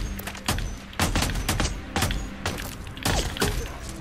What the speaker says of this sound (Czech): Kulomet funguje.